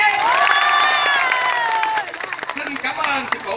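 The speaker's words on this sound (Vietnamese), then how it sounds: "Giờ hãy dành tặng cái tràng pháo tay thật đông nhé." At a Vietnamese community gathering, a crowd cheers loudly with high shouting voices, then breaks into brisk, uneven clapping with a few calls rising over it, close and lively.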